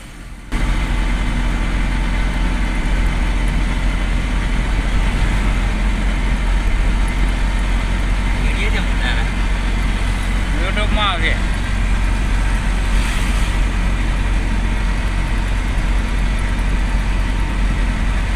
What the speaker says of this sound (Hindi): गाड़ी अपनी तेज रफ्तार से भाग रही है।